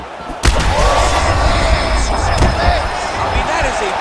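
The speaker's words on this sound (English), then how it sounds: "that is a big shot to the head" A punch landing to the head in a UFC 5 women's bout, a sharp heavy impact thud followed by another hit about two seconds later, over a loud arena crowd while a commentator talks.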